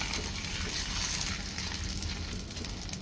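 Paratha frying in hot oil in a pan, a steady close hiss and sizzle with faint crackling, continuous throughout with no talk.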